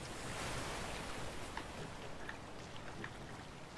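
A waterfall in the video game A Way Out gives a steady broadband rushing roar, soft and continuous, with faint scattered splashes and no talk over it.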